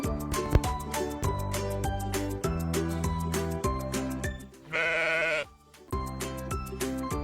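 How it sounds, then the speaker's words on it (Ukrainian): A sheep bleats loudly for about a second, a wavering cry standing out against upbeat background music. "вівці,"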